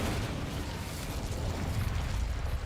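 A fire spell bursts with a rough, broad whooshing roar in Hogwarts Legacy, a steady rumbling blast of flame that holds for a couple of seconds at moderate loudness.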